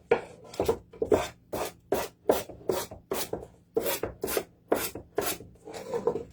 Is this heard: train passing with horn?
no